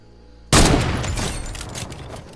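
A loud sharp report from a sniper rifle in Fortnite Battle Royale erupts after a quiet half-second, followed by a decaying crackle of further shots and rumble.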